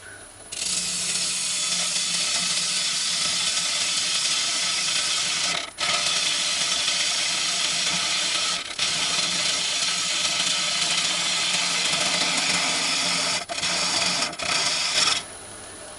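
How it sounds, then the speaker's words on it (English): Sharp woodturning tool scraping the underside of a very dry wood bowl spinning on a lathe: a continuous loud rasping hiss, broken by a few brief pauses where the tool lifts off. "I'm just going to give the underside of the bowl a bit of shape as well, get it a bit thinner here"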